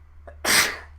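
A single loud sneeze bursts out near the middle of a quiet moment, preceded by a short sharp inhale, then fades over a low steady hum.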